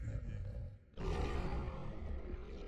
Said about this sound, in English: I hear yelling, roaring.